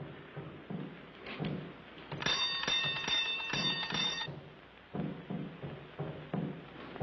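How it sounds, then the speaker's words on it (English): A bell rings in a rapid metallic trill for about two seconds, amid shuffling and muffled indoor sounds. "You ring the bell."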